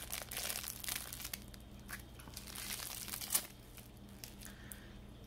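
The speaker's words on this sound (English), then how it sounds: "And then you take off the plastic that's on the outside." A plastic wrapper is peeled off a sticky tamarind candy spoon, soft crinkling and crackling close by with a sharper tearing rustle near the end, quiet overall.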